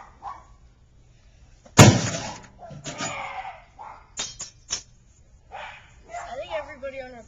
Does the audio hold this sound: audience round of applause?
no